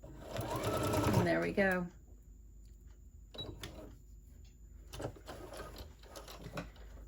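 Sewing machine back stitching at the end of a seam on a spring tote bag, a loud rapid whirring burst lasting under two seconds that winds down, then quieter handling clicks while someone speaks briefly.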